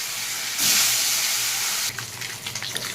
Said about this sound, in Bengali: আমি মাছগুলোকে এক এক করে ভেজে নিচ্ছি।